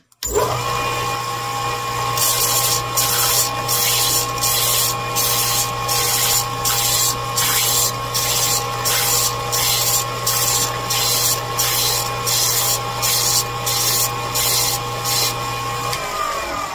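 A powered grinder or sander works the flange of a metal bottle cap, running as a continuous loud whine with a regular pulsing scrape repeated about every second, close up and without talk.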